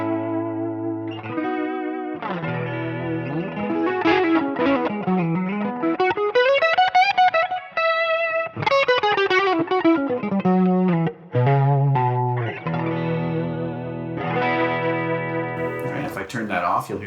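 Electric guitar run through a Line 6 Helix chorus effect with less depth and a slower rate plays a long, shimmering melodic passage of sustained notes and slides, with talk woven around it.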